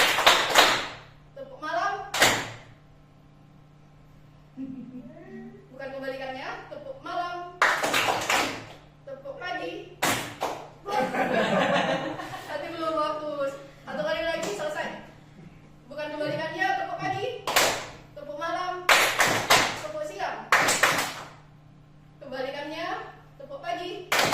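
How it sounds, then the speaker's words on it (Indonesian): A teacher leads a hand-clapping game with distinct patterns for morning, night and noon: sharp, loud claps in short bursts alternate with speech that calls out each round, clear and nearby. "Tepuk pagi, tepuk malam, tepuk siang, tepuk siang, tepuk pagi, tepuk malam."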